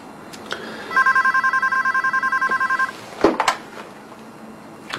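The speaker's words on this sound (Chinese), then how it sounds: "董事长，医药管理局的陈主任来电话找您。" A telephone rings in a rapid electronic burst of repeated pulses lasting about two seconds, followed by a brief clatter, likely the handset being lifted, in a quiet office-like room.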